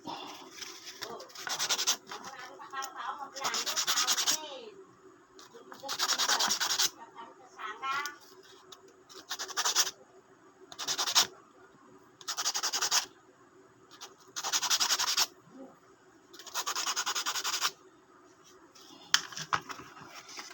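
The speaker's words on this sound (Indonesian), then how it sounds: "Tekan amplas karatnya dikit." Sandpaper is rubbed in repeated short bursts against a rusty fishing reel, the harsh scratchy strokes coming close and fairly loud, with quiet pauses between them.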